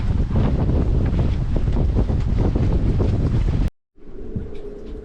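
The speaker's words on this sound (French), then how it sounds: "Le vent a encore forci pour atteindre les 25 nœuds établis, avec des rafales à 31 nœuds." Strong wind of about 25 knots with gusts near 31 knots roars across a sailboat off Perros-Guirec, a loud, constant buffeting rush over the microphone that cuts out suddenly, leaving quieter wind and boat noise.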